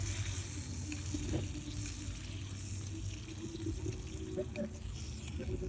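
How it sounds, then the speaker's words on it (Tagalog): Grilled oysters (lukan) sizzling on the heat, a steady low hiss and crackle throughout with occasional soft pops, fairly quiet and continuous. "Ayan kita nyo naman guys Parang sizzling."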